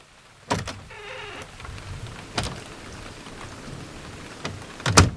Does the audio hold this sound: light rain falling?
yes